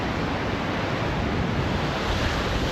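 Ocean waves on a beach, a dense, loud, steady roar of surf mixed with wind buffeting the microphone, continuous for several seconds with no voices.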